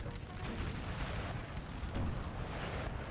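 Artillery fire in Napoleon: Total War rumbles continuously, a dense wash of distant cannon booms and battlefield roar with no clear separate shots.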